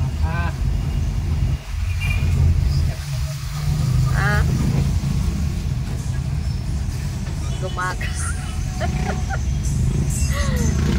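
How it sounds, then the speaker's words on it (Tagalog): Heavy town road traffic on the Lopez to Gumaca road in the Philippines, a dense steady engine rumble with occasional horn honks close by, under ongoing conversation. "Grabe ang traffic sa Gumaca."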